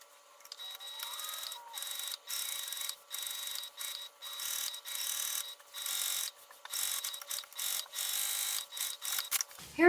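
A sewing machine basting a slip pocket onto a Larkspur tote bag, running in repeated short bursts of mechanical stitching with brief pauses between, fairly close and alone without talk.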